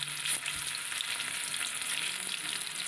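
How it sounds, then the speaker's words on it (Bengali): Potatoes fry in plenty of hot oil in a wok, giving a dense, even sizzle that holds steady and fairly loud throughout, with no voices. "প্রথমে আমি আলুটাকে ভেজে নেব"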